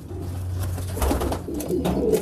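Pigeons in a loft give soft, low cooing calls, with the male sitting on the eggs and the female off the nest; the coos are moderately close and murmur over a faint background hum.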